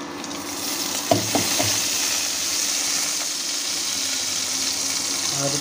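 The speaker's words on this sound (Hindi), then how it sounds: "फोड़नगुलो दिए देव।" Tempering spices crackle and sizzle in hot oil in a kadai for wedding-style Bengali mung dal, a loud steady frying hiss with a few sharp pops early on.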